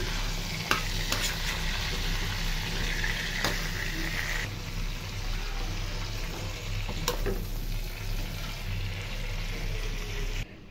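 Chicken pieces, cut fairly large, fry in a pan for chicken biryani, giving a steady close sizzle with a low hum underneath and a few sharp clicks of stirring, with no voices.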